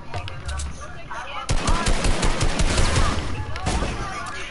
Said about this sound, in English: Oh, he's shooting that.